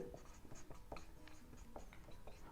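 Chalk or marker scratches across a board during a biology lecture, short irregular strokes and taps in quick bursts, faint and close, with no speech over them.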